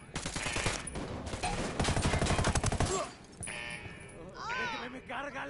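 Gunfire in Ghost Recon Wildlands: a dense, rapid burst of shots fills the first three seconds, then drops to quieter in-game sounds with a voice speaking.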